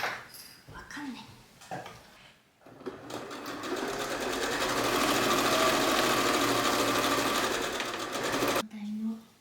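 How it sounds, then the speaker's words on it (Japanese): A sewing machine stitches a large fabric bag, its fast mechanical whir running steadily for several seconds after a few handling clicks and brief speech, then stopping abruptly. "引き続き縫っていきたいと思います。"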